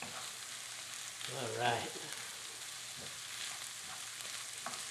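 Olives, garlic and anchovy paste sauce sauté in a pan with a soft, steady sizzle and a brief swell of stirring. A voice speaks a short phrase over it.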